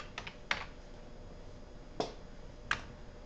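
Keys on a computer keyboard tapped in a few sparse, separate presses, each a crisp close click, with long quiet gaps between them over low room hiss.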